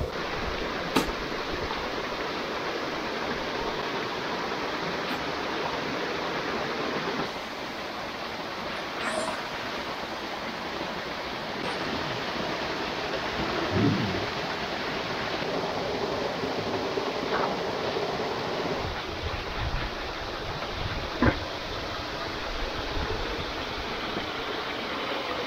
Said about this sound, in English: the water should flow out of that nicely